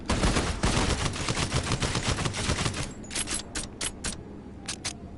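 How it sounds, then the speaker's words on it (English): Several guns fired at once in the game Hellsweeper, a dense, loud rapid burst of overlapping shots that thins into a few separate cracks with short gaps between them. "You can fire more than one gun at the same time."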